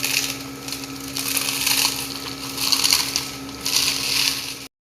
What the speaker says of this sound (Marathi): हे बघा आता मी पापड चुरा करून घेते